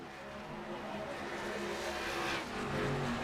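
Race cars in the iRacing sim slide down a racetrack together as a wash of engine roar and tire noise runs continuously, fairly loud and steady with no talk.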